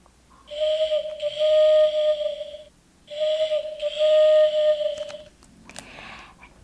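Two long electronic owl hoots from a children's sound book play in sequence, each a steady whistling tone lasting about two seconds, clear and close, followed by a few soft clicks.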